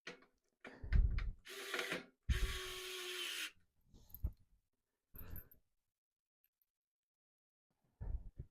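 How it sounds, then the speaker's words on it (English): An electric screwdriver drives screws into a Montech Sky Two PC case in short whirring bursts with ratcheting clicks, close and fairly quiet, separated by silences and small handling taps. "God, I love electric screwdrivers, you guys."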